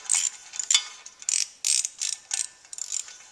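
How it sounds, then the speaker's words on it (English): A hand ratchet snugs flex plate bolts on a 250 combine engine in a hot rod, producing short crisp clicking bursts in a steady series of about eight strokes, close and clear, no talk. "These are threading in so easy, it's almost easier to just do it by hand with the ratchet."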